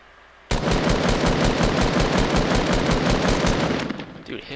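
Rapid automatic gunfire from the video game Fortnite, a loud sustained burst of dense shots lasting about three and a half seconds before tapering off.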